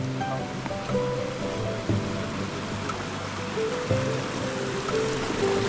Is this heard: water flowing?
yes